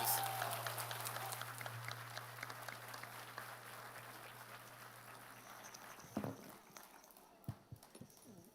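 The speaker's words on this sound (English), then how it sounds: "I need a big applause there, please." A large audience applauds at a university convocation ceremony in a hall, with full, dense clapping at first that gradually thins into a few scattered claps, over a low steady hum.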